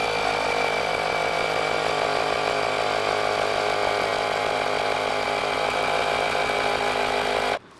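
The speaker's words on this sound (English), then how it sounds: "I'm going to hit this little button right here. It's going to go ahead and charge it" An electric pump charging a household expansion tank to 65 psi runs as a loud, steady mechanical whir and rattle for several seconds, then cuts off abruptly.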